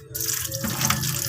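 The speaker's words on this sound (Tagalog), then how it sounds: "Yung gripo naman, sagad naman dito." A kitchen tap runs full into a sink while dinuguan is being cooked, giving a close, steady rushing splash for a little over a second.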